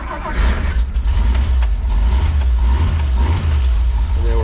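A flat fender Dodge Power Wagon truck engine, already warm from running, turns over and settles into a low, close, steady rumble with mechanical rattling.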